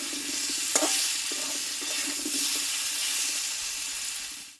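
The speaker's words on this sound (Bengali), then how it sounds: "এটাকে আমি ভালোভাবে কষিয়ে নেব" Sweet pumpkin sautés in oil while being stirred, producing a steady close sizzle with soft scraping strokes from the spoon throughout.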